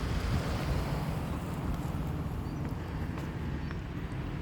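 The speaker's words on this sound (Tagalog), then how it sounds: "High tide na." Sea waves washing onto a sandy beach at high tide on a summer day, a steady continuous roar of surf mixed with wind buffeting the microphone, no speech.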